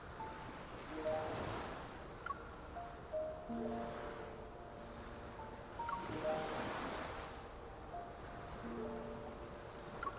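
Ocean waves in the game Love and Deepspace roll in softly and steadily with a windy surf wash, joined by faint musical tones, and no one speaks.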